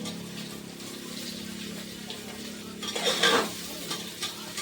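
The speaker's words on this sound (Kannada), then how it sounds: "ಉಳ್ಳಾಗಡ್ಡಿ ಚಂದ ಕೆಂಪ್ ಆಗಂಗ ಫ್ರೈ ಮಾಡ್ಕೊಂಡ್ ಬರ್ರಿ" Onions frying until browned in a pan in a village kitchen, a steady close sizzle with a brief burst of stirring and metallic scraping toward the end.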